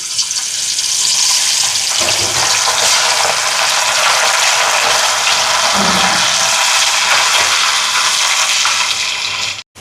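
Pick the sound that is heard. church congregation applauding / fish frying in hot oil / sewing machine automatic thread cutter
fish frying in hot oil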